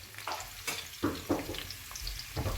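Onions and garlic frying in a pan for Chinese fried rice, a close, steady sizzle with bursts of stirring and scraping, no speech.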